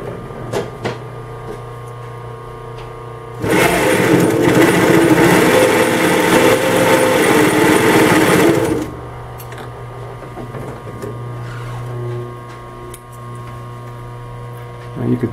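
Singer 111W151 needle feed industrial sewing machine stitching in one loud, steady run of about five seconds, set to a smaller stitch length, with faint mechanical hum before and after.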